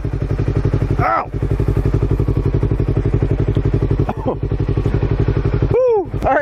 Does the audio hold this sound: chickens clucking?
no